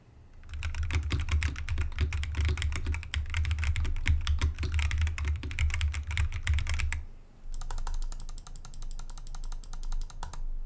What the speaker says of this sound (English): Here's what typing and mouse clicking sounds like.